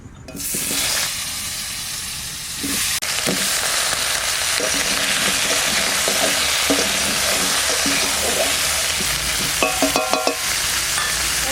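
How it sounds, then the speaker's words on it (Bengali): Potatoes fry in hot oil in a pot for a Bengali koi fish curry, giving a loud, continuous hiss and sizzle with occasional soft clinks of a spatula. "এবার আলু কটা ভেজে নেব, জল থেকে তুলেই দিয়ে দেবো। এবার ভেজে নিচ্ছি।"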